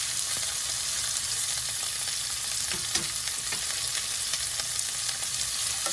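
Shrimp and green beans fry in a pan, a steady close sizzle with occasional stirring scrapes and pops throughout.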